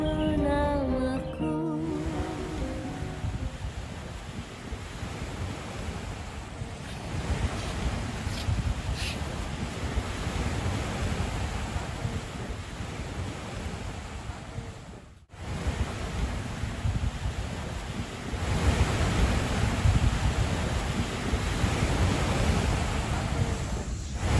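Ocean waves wash onto a beach in a steady broadband roar that swells and recedes, with wind noise buffeting the microphone and a brief break partway through.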